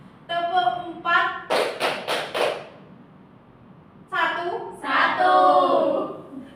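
Students in an Indonesian classroom science lesson clap hands in a counting game: a quick run of about four sharp, close claps, with a teacher's voice speaking before and after.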